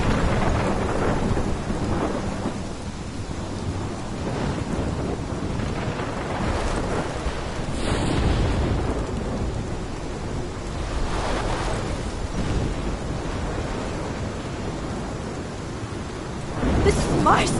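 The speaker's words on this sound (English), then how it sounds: "This is my storm." A video game thunderstorm in Life is Strange brings heavy rain and gusting wind as a loud, continuous roar, with deep rolling swells of thunder rising and falling throughout.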